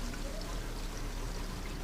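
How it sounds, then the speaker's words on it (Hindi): Water poured into a pan of lentils for dal mash kofta, a steady close pouring and trickling wash running evenly throughout with no talk. "ये देखिए इसमें थोड़ा सा पानी डाल लेंगे।"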